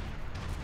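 Heavy cannons boom in Age of Empires 3, a short, dense burst of low, rumbling artillery fire that fills the whole moment at close, loud level.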